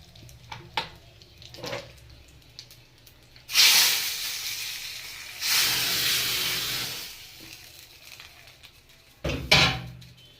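Spice tempering hits hot drumstick dal and sizzles in three loud hissing bursts, the middle one the longest, each fading back to a quiet kitchen background.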